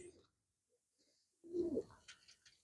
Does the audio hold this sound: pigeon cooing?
yes